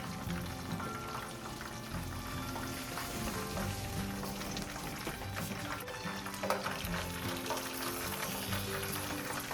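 Steady crackling sizzle of shrimp wontons frying in hot oil, close and continuous with occasional louder pops.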